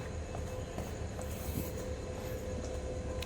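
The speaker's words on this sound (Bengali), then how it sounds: "এই হচ্ছে আমাদের ট্রেন," A passenger train stands at Alipurduar junction, giving off a steady low rumble and mechanical hum with faint clanks, loud and close, with no voices.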